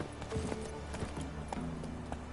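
In The Witcher 3, Geralt's horse Roach clip-clops along at a steady walk, the hoofbeats fairly close and continuous over game ambience.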